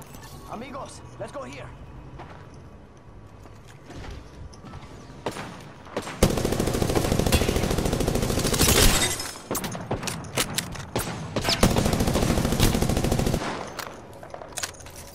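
Rapid automatic gunfire in the battle royale game Apex Legends, dense sustained bursts with shattering impacts, loud and close, broken by short pauses, with a player's voice talking over parts of it.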